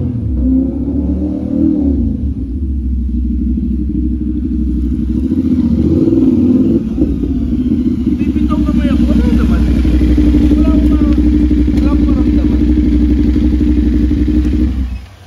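Motorcycle engines idle and rumble loudly and close by in a garage, holding a steady droning tone with some clatter, while people talk over them.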